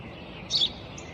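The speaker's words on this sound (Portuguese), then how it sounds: "Um pássaro, pai, um pássaro." A bird gives one short, faint chirp midway through, heard over a steady low background hiss with no voices.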